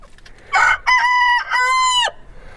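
A rooster crows close by, a loud, drawn-out call in several bursts, preceded by a short clucking squawk.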